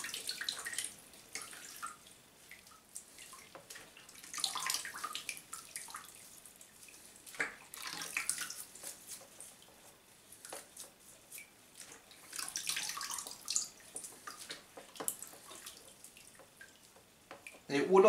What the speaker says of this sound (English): It would also help if you let the curly cord soak in the warm water for a little while as well.